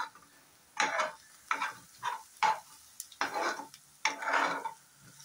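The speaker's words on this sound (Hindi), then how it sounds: "अभी हमें ये अच्छे से पूरा भून लेना है, पूरा उसका जो लहसुन का कच्चापन है वो पूरा अच्छे से हमें निकालना है।" Garlic sizzles and crackles in a hot pan while frying for sev tamatar sabzi, with repeated bursts of stirring and scraping against the metal, no voices.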